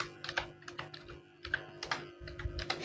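A file name is typed on a computer keyboard: quiet, quick, irregular key clicks in short runs with brief pauses, close and alone.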